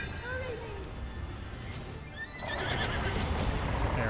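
A horse in the video game Breath of the Wild whinnies in rising, wavering calls, then hooves clatter in a quickening clip-clop that grows louder, with game sounds and a player talking over it.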